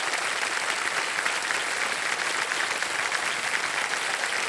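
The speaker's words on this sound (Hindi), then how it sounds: "तालियां बज जाएं इनके लिए।" Studio audience on the quiz show Kaun Banega Crorepati claps steadily and fairly loudly, a dense, even wash of applause filling the whole stretch without a break.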